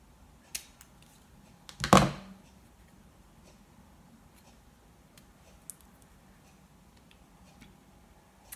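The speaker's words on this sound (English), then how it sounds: "So I'm just going to cut in up to the centre and then from the corner cut out." A single crisp snip of scissors cuts through card for a stamping craft, near and sharp, set among a few faint clicks and quiet room tone.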